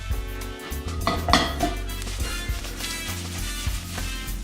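Grilled onions scraped and stirred out of a metal pan with a utensil, giving steady clattering metallic scrapes and clinks over a low hum of cooking, close and continuous, with no talking.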